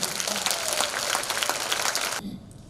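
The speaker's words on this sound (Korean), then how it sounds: "나태주 선생님을 큰 박수로 환영해 주십시오." An audience at the Tongyeong literary award ceremony applauds to welcome poet Na Tae-ju, a brisk burst of steady clapping that cuts off sharply near the end.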